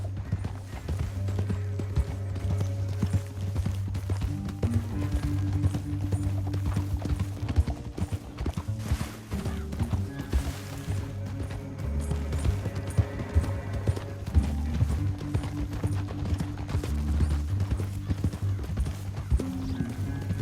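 Horse hooves clip-clop in a steady galloping rhythm through a Red Dead Redemption 2 canyon ride, close and continuous over a low droning musical score, with an occasional whinny.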